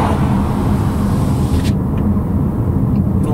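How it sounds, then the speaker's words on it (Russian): Loud, steady street traffic noise heard through an open window of a Haval Jolion, cars rumbling past as a continuous wash of engine and road sound. "Вот, мы отчетливо слышим автомобили. Ну, вообще шум с улицы, да?"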